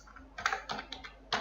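Keys clatter in short close bursts on a computer keyboard, a few quick taps separated by brief pauses, with no talking.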